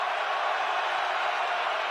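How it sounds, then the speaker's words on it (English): Steady, dense roar of a stadium crowd at a 2006 Northern Illinois vs Iowa college football game, cheering for the Iowa Hawkeyes, a constant wash of noise without distinct peaks. "Crowd getting behind the Hawkeyes."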